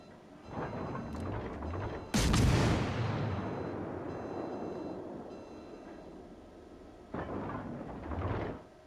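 Naval guns fire on a target in a video game battle: a sharp, heavy blast with a long rolling decay, framed by swelling mechanical whooshes before and after, loud and close, with no talking.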